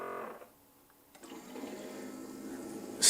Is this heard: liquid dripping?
yes